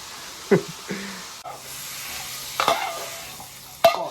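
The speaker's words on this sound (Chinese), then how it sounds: "炒龙豆" Long beans being stir-fried in a wok, with a low background sizzle broken by several sharp metallic scrapes and clanks from the spatula, spaced irregularly across the stretch.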